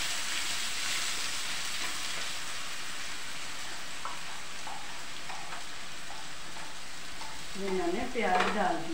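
Onions frying in a pan with a few black peppercorns, hissing steadily as they are stirred for paneer do pyaza, with scraping stirs and clinks building near the end.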